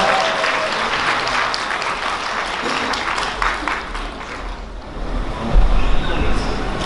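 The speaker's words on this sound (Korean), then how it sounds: "그럼 뜨거운 박수 부탁드리겠습니다." Guests at a wedding ceremony in a convention hall applaud after the bride and groom's kiss, a loud, continuous wash of clapping from a large crowd that swells slightly toward the end.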